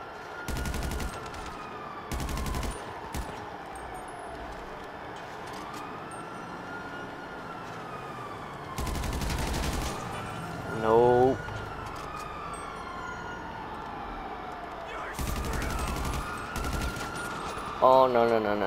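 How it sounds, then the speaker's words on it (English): Gunfire in Grand Theft Auto V: bursts of rapid automatic shots come in several loud clusters, while police sirens wail and sweep continuously underneath. "these dudes want to shoot"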